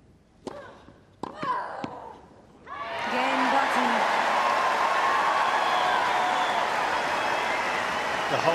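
Tennis crowd breaks into sustained loud applause and cheering after a Sharapova game, following a few sharp thuds and brief sounds, then a dense steady roar of clapping that holds to the end.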